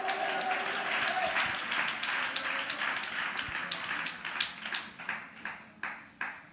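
A congregation claps hands together during a Christian worship service: dense, sustained crowd applause that settles into a more rhythmic, beat-like clapping toward the end.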